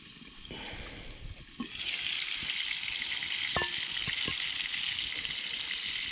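Venison backstrap and bacon frying in a pan outdoors in the snow at a bushcraft shelter: a steady bright sizzle swells up after a couple of seconds of quieter crackling, with a few faint clinks and pops underneath.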